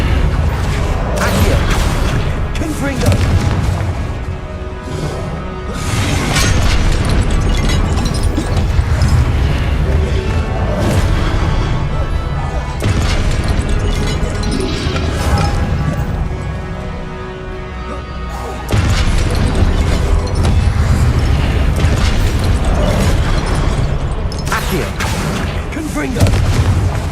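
Repeated booming spell blasts and crashing impacts from Accio and Confringo casts in the video game Hogwarts Legacy, loud and dense over roughly half a minute with a brief lull midway, mixed with game effects and faint voices.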